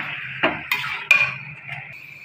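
A metal lid goes onto a cooking pot of mutton with a few quick clanks and clinks. The sounds are close and fairly loud, over a faint steady hiss, with no speech.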